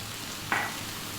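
Ground garam masala, turmeric, chili, cumin and coriander hit a hot pan of lamb for an Indian dry fry, giving a short, close burst of sizzling as the spices land, then a steady low hiss with no talk.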